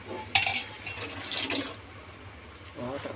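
Water splashes and pours into a pot of chicken curry, a sharp initial splash followed by a steady trickle, close by, with a voice briefly near the end.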